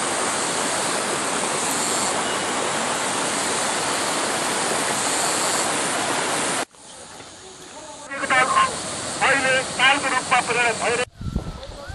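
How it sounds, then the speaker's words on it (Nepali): The Kali Gandaki river flows out of Myagdi, Nepal, in a landslide-hit area. A loud, steady broadband rush of water fills the first six seconds, then drops away as people talk over quieter background noise. "यो काली खोला जुन म्याग्दी मुक्ताङबाट बगेर आउने खोला हो यो"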